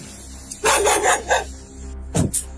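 A dog barks in a loud close burst of several quick barks, pauses, then gives two more sharp barks, over a steady low engine-like hum from a police vehicle setting.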